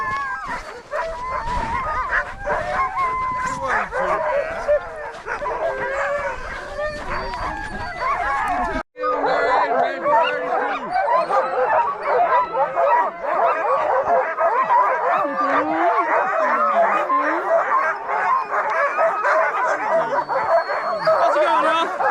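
Sled dogs bark, yip and howl in a loud, continuous excited chorus at a dog sledding camp on a glacier in Alaska, close by, with a short break partway through.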